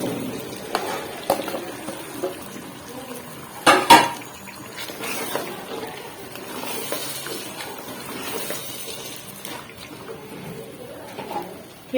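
Chopped capsicum and potato tipped into a pan for a dhaba-style mixed vegetable dish, with clattering utensil knocks against the pan, a sharp clang midway, and soft sizzling under a speaking voice.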